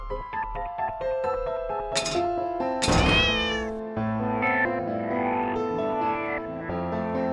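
A cat in the video game The Cat Lady meows loudly several times, with a couple of strained, drawn-out meows and a sharp thunk, over a sustained musical drone.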